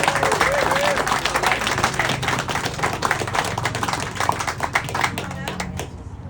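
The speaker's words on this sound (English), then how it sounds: "A round of applause." Applause from a Rotary club audience at a meeting, dense steady clapping filling the room for about six seconds with scattered voices mixed in, fading slightly toward the end.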